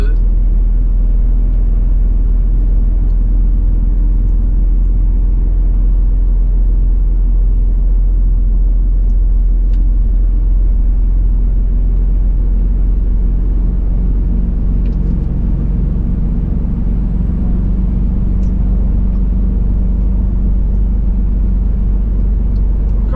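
A heavy truck on a German motorway under roadworks slowly gathers speed, its deep engine drone steady and continuous from inside the cab, with a faint hiss of road and wind above the low rumble.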